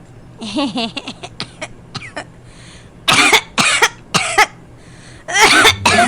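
A woman coughs in a series of harsh, loud bursts, starting with a broken cough-laugh and then giving several forceful hacking fits with short pauses between them. She sounds close and there is no other sound around her.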